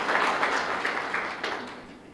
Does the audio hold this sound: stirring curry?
no